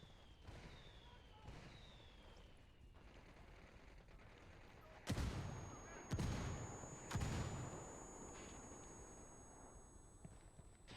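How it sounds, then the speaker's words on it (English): Mortar fire in the video game Ghost Recon Wildlands: three heavy, booming impacts about a second apart over a low rumbling ambience, preceded by fainter whistling streaks. "I called Pakatari for some mortar fire."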